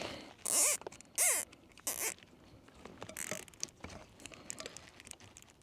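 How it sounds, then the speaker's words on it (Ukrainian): Tape torn and wrapped to strap a warhead onto an FPV drone, giving several loud ripping pulls followed by quieter crinkling and rustling handling, close up with no talk. "тепер примотуємо так само бойову частину"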